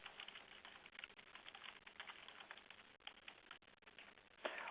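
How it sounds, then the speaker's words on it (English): Quiet, steady typing on a computer keyboard, a rapid stream of soft key clicks with a brief pause, heard close and faint. "I can insert my own text by typing it in."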